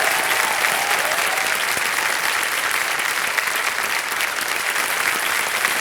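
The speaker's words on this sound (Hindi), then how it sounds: "तालियां बज जाए जोरदार।" Studio audience on a TV quiz game show bursts into loud, sustained applause, dense clapping filling the room without a break.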